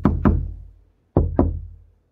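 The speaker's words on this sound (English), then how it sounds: "I could try to knock on that" Four hollow, resonant knocks on a trampoline, struck as two quick pairs with a short pause between, each ringing out and decaying; close and loud with no voices.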